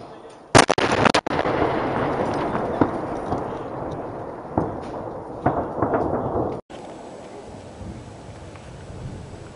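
Explosions from the night bombing of a military plant: a sharp, loud blast followed by a long rumbling roar with several further thuds and pops, heard from a distance.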